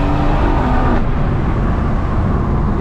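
A BMW M140i Shadow Edition tuned to 475 bhp accelerates at full throttle, its engine a loud, steady roar filling the cabin with no letup, heard from inside the car.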